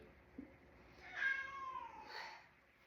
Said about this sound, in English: sorry if you can hear the cat in the background.